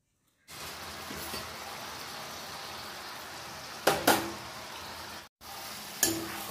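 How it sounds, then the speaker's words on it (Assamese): Chicken pieces go into tomato paste in a pan and fry with a steady sizzle, broken by a few sharp scraping stirs of the spoon and a brief pause before the frying resumes. "এতিয়া মই চিকনটো দি দিম আৰু ভালকে মই মিলাই দিম"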